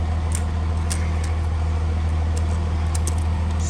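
A 2000HP Cummins diesel truck rolling on a dyno in neutral, a steady low engine drone and hum with faint ticks and clicks over it, close and continuous, with no voices.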